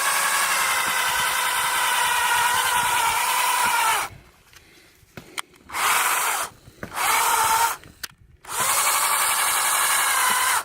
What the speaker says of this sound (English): we just started drilling on this tree